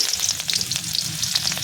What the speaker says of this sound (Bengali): তেলটা গরম হয়ে গিয়েছে, এখানে দিয়ে দেবো কিছুটা রসুন